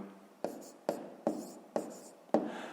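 Pen strokes scratch numbers onto paper during a math lesson: five short, crisp, close writing strokes spaced at an even pace, fairly quiet, with no voice over them.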